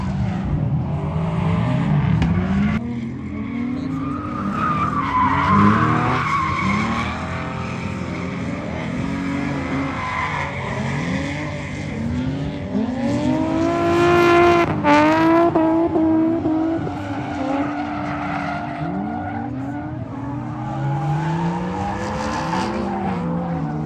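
BMW E46 drifting at a track drift event, the engine revving hard and rising and falling in pitch while tires squeal and skid in long sweeping screeches, loud and close throughout.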